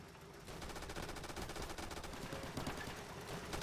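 Sustained gunfire in the World War II shooter Easy Red 2, on a custom Southern France map, with dense overlapping rifle and machine-gun bursts that continue almost without pause.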